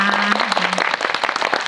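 Audience applause at a Korean cinema talk for the film Beasts Clawing at Straws, dense steady clapping filling the room as guests leave, with a brief voice heard over it near the start.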